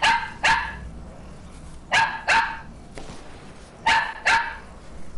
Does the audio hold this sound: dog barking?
yes